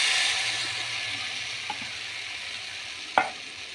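Batter goes into a pan of hot oil for gadi pitha made with coconut, cardamom, banana, semolina and flour, giving a steady close sizzle with a couple of faint taps and one sharp knock near the end.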